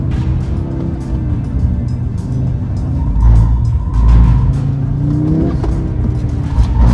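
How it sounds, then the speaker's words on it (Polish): A 400 hp Audi RS3 engine revs hard while driving, a loud, continuous throaty roar rising and falling in pitch with gear changes throughout, no talk over it. "silnik jak to silnik 400 koni ma"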